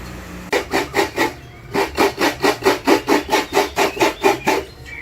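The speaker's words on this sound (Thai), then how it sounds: "เดี๋ยวเราไปดูการขูดกะทิสดก่อนนะครับ" Fresh coconut scraped by hand on a grater for coconut milk, a steady rhythmic rasping of about fifteen evenly spaced strokes, close and fairly loud, with a short pause after the first few.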